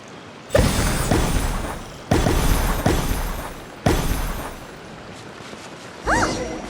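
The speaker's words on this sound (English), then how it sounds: "Fireworks!" Fireworks burst in the video game Genshin Impact, three loud booming explosions about a second and a half apart, each followed by crackling decay, then a fourth burst with a rising whistle.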